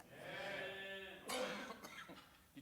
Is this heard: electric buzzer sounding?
no